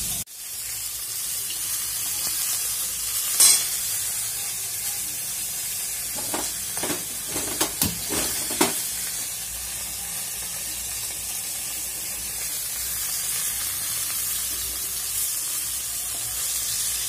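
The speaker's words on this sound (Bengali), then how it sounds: "রান্না করছি" Food sizzles steadily in a home kitchen on a cold day, a constant hissing fry broken by a few louder clinks and stirring scrapes midway, with no talking.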